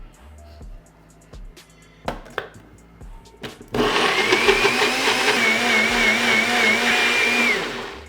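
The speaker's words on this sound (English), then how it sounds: "Taps the lid, and we're just gonna blend it up." A blender whirs a corn sauce with wasabi and agave. A few taps and clunks are followed by a loud, steady motor roar for several seconds that winds down at the end, close and with no voices.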